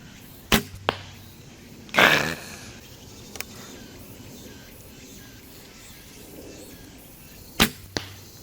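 A carbon arrow is loosed from a bow over 20 m, with sharp releases and impact snaps at about 0.6, 2 and 7.6 seconds, one longer whoosh near 2 seconds, set against a faint outdoor background.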